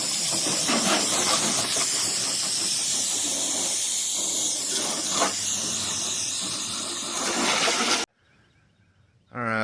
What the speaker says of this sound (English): I need to get this thing rinsed off.